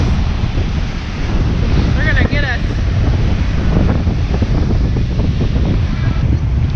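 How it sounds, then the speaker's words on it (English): Loud, continuous roar of big ocean surf crashing at Boston Beach, Jamaica, with heavy wind buffeting the microphone; a voice speaks briefly partway through. "But wow, look at these waves."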